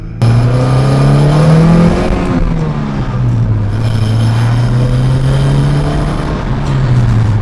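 A Saab 900 Turbo engine pulls hard under boost with the APC system connected. The loud, close drone rises and falls in pitch as the revs climb, ease off and climb again.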